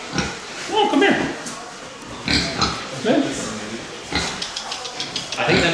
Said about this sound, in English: They even have black pigs here.